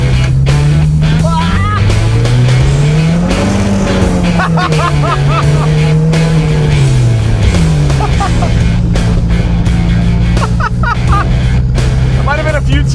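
A turbocharged 1969 sports car engine revs hard, its pitch climbing and falling through repeated pulls toward redline. The loud, close engine drone is continuous, and a voice talks over parts of it.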